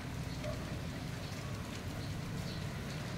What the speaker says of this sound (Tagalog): Since maulan po, basa ang ating kalsada.